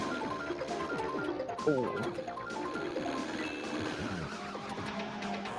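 Cars crash and skid into one another in a racing video game, with tires screeching and impacts thudding over a continuous engine roar and game music. One sharp collision stands out near the middle.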